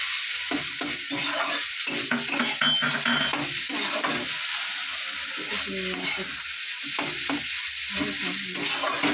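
Maggi noodles fry in a pan with a constant bright sizzle, while a utensil scrapes and stirs in repeated irregular strokes, close up with no talking.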